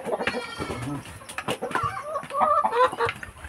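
Backyard chickens cluck and squawk at feeding time, a busy overlapping chorus of calls at close to moderate distance over a constant background hum.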